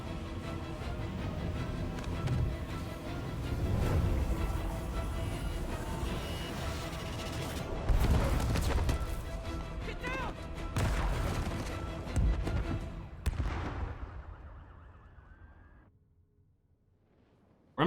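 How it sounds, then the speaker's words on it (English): Explosions and crashing combat effects from the Spider-Man PS4 video game come as dense, rumbling bursts over busy game sound, fairly faint in the mix and fading out near the end. "Explosions."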